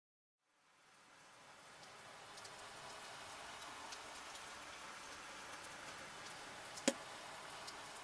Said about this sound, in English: As rain pours over an abandoned Tokyo